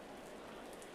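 Rain in a GT3 racing video game at the Barcelona circuit, a faint, even patter of drops forming a steady soft hiss throughout.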